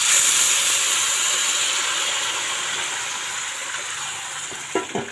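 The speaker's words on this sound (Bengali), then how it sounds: "এখন এর মধ্যে আমি পরিমাণ মতো জল ঢেলে দেব" Water poured into rice and lentils frying for khichuri produces a loud, steady hiss and sizzle that slowly eases, with a few soft clinks near the end.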